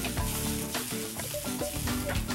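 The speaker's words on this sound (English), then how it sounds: "we're going to add the diced tomato to that pesto, and this will be the base for our sauce" Diced tomatoes hitting a hot pan of pesto for a linguine seafood pasta sauce, giving a steady close sizzle and frying crackle throughout, with no talking.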